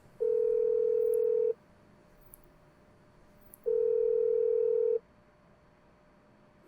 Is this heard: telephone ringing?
yes